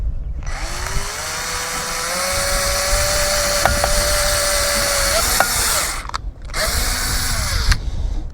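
Small cordless drill driving a screw while installing dusk-to-dawn LED lights, a loud whining motor rising in pitch and straining for about five seconds, then two shorter bursts after brief stops.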